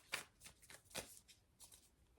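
Tarot cards being shuffled by hand in a run of quick riffling bursts, close and fairly quiet, with short pauses between the flurries and no talking.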